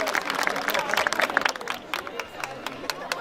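A concert crowd gives a round of applause for municipal staff, a crowd clapping that fades after the first couple of seconds, with a voice speaking over a loudspeaker alongside.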